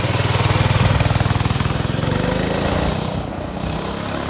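Mini Baja minibike fitted with a Power Fist 212cc motor roars close by on a test ride, its single-cylinder engine pulsing loudly and steadily, then easing off slightly as it pulls away.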